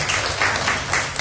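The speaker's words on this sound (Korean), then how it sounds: "다시 한번 박수로 응원하기 원합니다" A church congregation breaks into applause during a Sunday service, a dense, steady wash of many hands clapping together, loud and close, with no pause across its short run.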